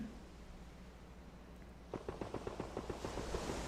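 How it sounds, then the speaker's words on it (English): Unsuppressed Mk47 Mutant rifle firing in PUBG on the training grounds: a rapid string of sharp, distant-sounding shots cracks out in the second half after quiet background hiss, each report trailing into faint echo. "This gun can be heard all the way up to 640 meters out without a suppressor."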